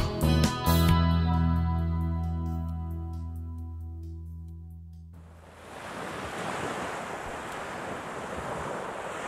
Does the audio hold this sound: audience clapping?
no